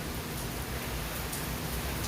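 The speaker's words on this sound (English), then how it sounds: "It is pouring down outside. I mean, like, literally, like, it's pouring down." Heavy rain pouring down outside, a dense, even hiss of falling water heard faintly and without a break.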